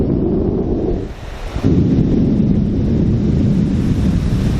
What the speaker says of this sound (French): Il y a quelques petites vagues.